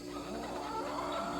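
Backyard chickens give a brief burst of soft clucking close by, over a low background hum.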